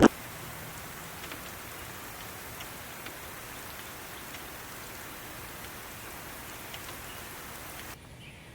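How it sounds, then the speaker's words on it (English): A heavy rain downpour falls steadily, a dense, even hiss of drops on surfaces that stays loud and unbroken for the whole stretch, with no voices. "I think the weatherman's saying it's going to be a torrential downpour."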